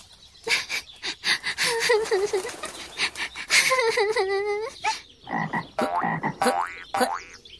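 A voice imitates a frog croaking, with a series of rhythmic, raspy ribbit calls in close succession, loud and up front.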